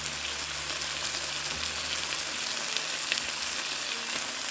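Sliced pears sizzle steadily in a hot pan with apple cider vinegar as they are flipped over, a continuous close crackling fry with no voices.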